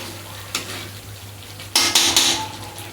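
A spoon scrapes and clinks against a pan while butter chicken gravy fries in oil over low flame, a faint steady sizzle underneath and a cluster of louder stirring scrapes toward the end, no voices.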